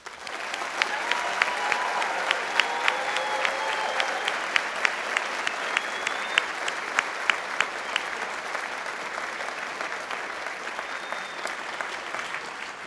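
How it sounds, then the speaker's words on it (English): Sustained audience applause at a university science convocation, a broad even wash of many hands clapping at steady volume in a large hall, with a few sharper claps standing out. "Please join me once again in congratulating all of the graduates with your applause"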